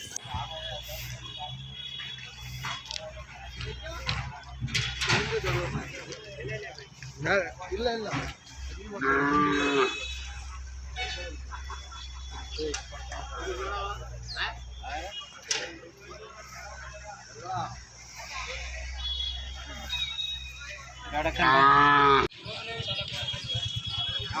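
Cows moo several times amid a busy outdoor crowd at a cattle fair, with long low calls rising clearly around the middle and near the end, over background chatter.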